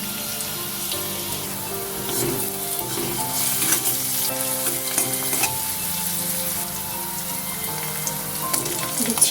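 Chopped onion frying until reddish in a pan for a Kolkata street-style egg curry, a loud continuous sizzle with repeated scraping stirs up close.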